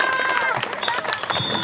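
Crowd applause and cheering greeting a volleyball team at a local tournament match, a dense clatter of clapping with voices rising over it, continuous and fairly close.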